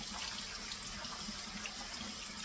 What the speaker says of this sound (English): I run my hands through them, get them as clean as I possibly can until the water runs clear below it